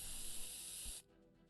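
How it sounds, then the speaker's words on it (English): A can of red spray paint from the video game Arknights hisses in a steady, loud, continuous burst for about a second, then cuts off abruptly into quiet. "pulls out a can of red spray paint"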